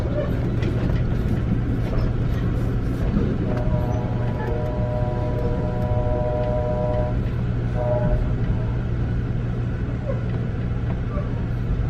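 A steady low rumble of an Amtrak California Zephyr passenger train hums throughout while its horn sounds faintly for a few seconds in the middle, partly masked by noise.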